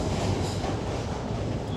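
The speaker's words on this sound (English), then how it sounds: "The train's coming." A train rumbles past close by, a loud, steady roar of wheels on track with faint clattering.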